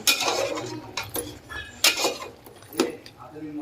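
A spoon stirs a spicy mutton curry (rassa) in a pot over a wood-fired clay stove, giving intermittent clinks and scrapes against the metal with some talk nearby.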